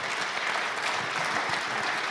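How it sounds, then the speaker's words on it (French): An audience at the press conference for the 16th Transat Jacques Vabre Normandie sailing race applauds sponsors and partners, a continuous, even patter of many hands clapping, moderately loud, with no speech over it. "Donc merci de les applaudir pour le soutien qu'ils nous apportent"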